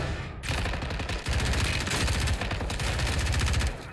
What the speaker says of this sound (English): Yeah, Kevin's shooting at him right under us